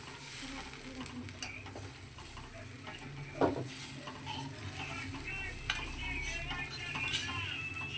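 Spicy chicken rassa curry being mixed in a pot, a quiet sizzle with scraping and stirring scrapes, a sharper utensil knock near the middle and a few light clinks, without talk.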